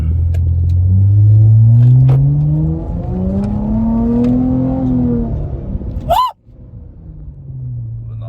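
Car pulling away, a loud low engine rumble that rises in pitch through the gears and fades, then a sharp click near the end.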